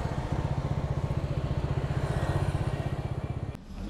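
A motorcycle rolls into a hotel parking area at low speed, its engine thumping in a fast steady pulse, close and fairly loud, before cutting off abruptly near the end.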